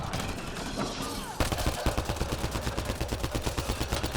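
Gunfire in Mass Effect: Andromeda during a fight: after a noisy stretch of combat, a sustained rapid stream of evenly spaced shots erupts, loud and close.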